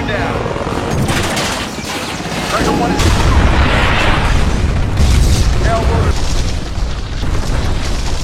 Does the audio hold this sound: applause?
no